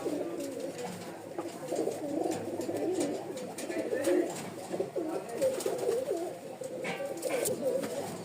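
Pigeons, including Rajshahi Giribaz birds, coo continuously in a dense, overlapping chorus at a pigeon sale loft, close and steady throughout.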